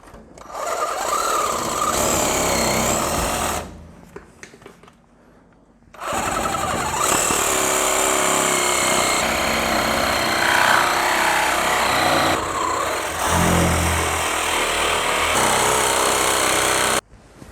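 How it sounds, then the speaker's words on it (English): A power tool, either an angle grinder or a reciprocating saw, cuts off a Land Rover Defender shock absorber, running loud and close in long harsh bursts with a short pause partway through and a brief dip near the end. "I'm just going to get my angle grinder or sawzall and cut the shock absorber off"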